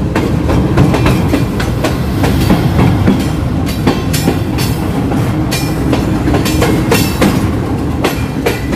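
Tezgam Express 07UP, hauled by a GEU-40 locomotive, runs fast toward Lahore Junction, with a steady loud rumble of rail cars and repeated clickety-clack of wheels over rail joints throughout.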